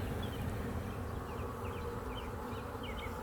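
Honey bees buzz steadily around a nuc hive set up in a backyard, with a continuous droning hum and scattered higher whines from individual bees close by.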